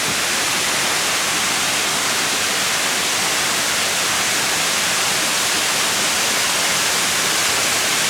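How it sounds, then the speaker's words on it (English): Steady, dense roar of Victoria Falls waterfall in the Blue Mountains, heard up close as continuous broadband rushing water, loud and unbroken, with no talking. "Waterfalls look great."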